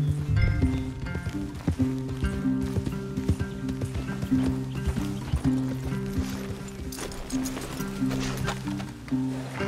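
Horses' hooves clop in an uneven rhythm, close by and moderately loud, alongside creaking tack and a faint low hum, with little talk.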